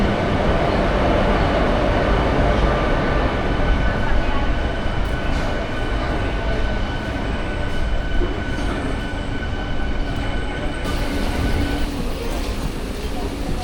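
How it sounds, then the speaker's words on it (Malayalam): A MEMU train pulls away from a station close by, a steady heavy roar of wheels and carriages with faint squeals, continuing throughout. "അപ്പോൾ നമ്മളെ കൊണ്ടുവന്ന് വിട്ടിട്ട് മെമു ഇറങ്ങിപ്പോവാണ്"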